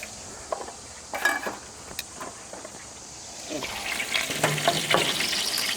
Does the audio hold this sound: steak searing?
yes